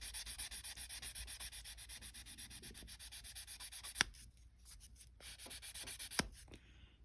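Steady, rhythmic rubbing of sandpaper on a body panel of a 1969 Dodge Coronet Super Bee, close and continuous, with two sharp scrape accents near the end and no talking.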